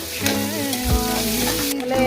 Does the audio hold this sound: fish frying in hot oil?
yes